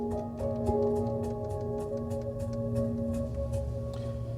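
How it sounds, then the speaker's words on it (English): Soft ambient music from the relaxation program inside a 2020 BMW M340i xDrive, with sustained drone tones and light, regularly spaced chiming notes floating over them, calm and even in level. "the music sounds like this"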